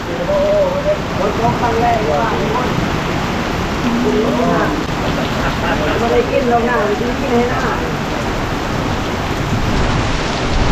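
Steady rain pours down outdoors in a hunting trip setting, a constant loud hiss throughout while people talk over it.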